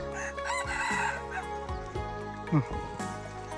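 A rooster crows on a rural hillside farm in the forest highlands, a drawn-out call heard clearly with some background murmur and a brief louder thump partway through.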